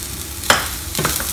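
Curry leaves dropped into hot oil with frying shallots, garlic, ginger and green chili give two quick bursts of crackling over a soft steady sizzle, close and brief, with no voices.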